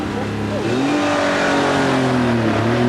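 A new Porsche 911 Carrera 4 with a 3.6-litre, 250-horsepower engine on a demonstration run: a steady loud engine note that drops briefly and then climbs through the gears, close and continuous, with a voice talking over it.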